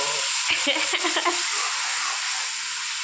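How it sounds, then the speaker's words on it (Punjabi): Chopped tomatoes fry with onions in a pan in a home kitchen while koftas are being made. There is a constant hissing sizzle, with a few quick stirring scrapes early on, and no talking over it. "ਲੋ ਜੀ ਟਮਾਟਰ ਚੱਲੇ ਵਿੱਚ ਪਿਆਜ਼ ਦੇ"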